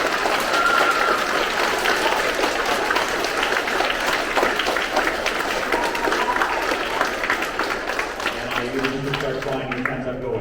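Audience at a sixth-grade honor roll ceremony applauding students, a dense, loud burst of clapping from a crowd that fades toward the end as a voice begins speaking.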